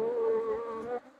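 Steady, close buzzing of honeybees at an apiary hive after a colony split, a dense humming drone that cuts off abruptly near the end.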